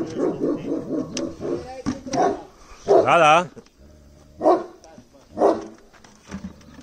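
A small dog at a mountain cabin barks repeatedly in short bursts, loud and close, overlapping with someone talking.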